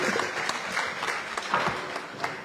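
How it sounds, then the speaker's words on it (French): Audience clapping at a regional awards ceremony in Guadeloupe honoring high-school graduates, a steady close patter of many hands from start to end. "qu'on applaudit très très fort"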